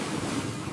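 Ocean waves surge in the open Southern Ocean, a steady, dense wash of surf and wind noise that stays loud and unbroken for under a second, with no voices.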